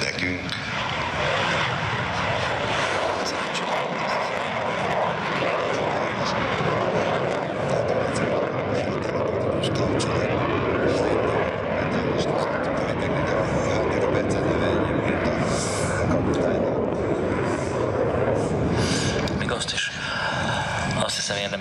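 A Royal Netherlands Air Force General Dynamics F-16AM Fighting Falcon jet at an air display roars steadily and loudly for the whole stretch, a broad continuous engine rumble with a voice talking over it.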